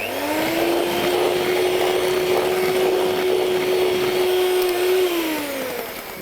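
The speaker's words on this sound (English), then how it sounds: "And then we mix again." An electric mixer whirs steadily through Swiss roll batter, a loud, continuous hum that holds an even pitch and then winds down slightly at the end, with no talking.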